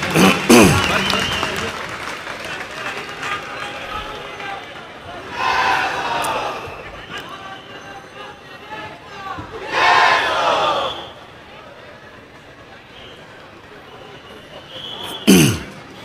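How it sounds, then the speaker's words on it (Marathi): A large crowd at a political rally cheers and applauds loudly in several rising bursts with shouts, welcoming a speaker, then quiets between waves. "सर्वांनी जोरदार टाळ्या वाजवून त्यांचं स्वागत करायचंय."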